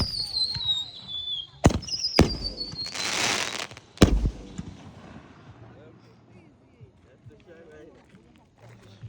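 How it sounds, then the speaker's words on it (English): An America Hell Yeah 24-shot firework going off at a backyard show, with a few sharp bangs and a crackling burst close by, followed by quieter outdoor ambience as people talk and shout nearby. "It says America Hell Yeah firework has 24 shots."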